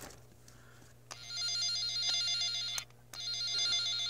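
A cable toner probe beeps as it traces wiring in a vehicle harness, giving a steady electronic warble in two bursts split by brief clicks.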